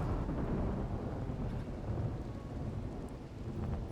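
Rain pours steadily with low, rumbling thunder in the Rimworld video game, a dense, continuous wash of noise with a heavy low-end roll, and no talking over it.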